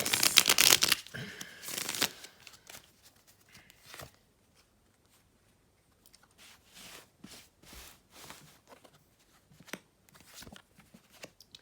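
A tarot card pack crinkles loudly at first, then quieter bursts of cards being shuffled and riffled come in irregular clusters separated by short silences, close up and without speech.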